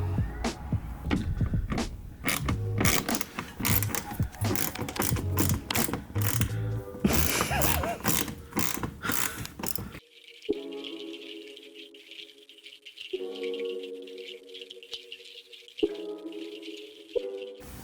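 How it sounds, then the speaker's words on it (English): Ratcheting and clicking from a T15 Torx bit backing out the five bolts that hold a cover on a 2020 Chevrolet Silverado 1500 bumper. It starts as dense, busy mechanical rattling and then thins to sparser whirring bursts with gaps between them. "we're using our T15 Torx bit again to take off these 5 bolts right here"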